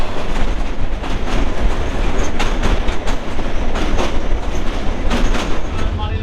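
Jayantika Express on the Dhaka–Sylhet line rolls along the rails, heard from inside a carriage as a loud continuous rumble with rhythmic clickety-clack of the wheels over joints.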